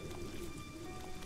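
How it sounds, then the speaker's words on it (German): Steady rain falls in the video game Elex, a dense, even hiss of drops that stays constant and fairly faint throughout, with no voices. "Den schönen Regen."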